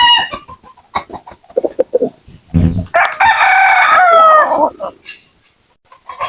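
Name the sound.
native chickens and rooster crowing at feeding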